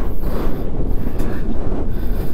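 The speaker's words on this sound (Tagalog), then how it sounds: "Grabe, lakas ng hangin." Strong wind buffets the microphone in a constant loud roar, gusting slightly without pause.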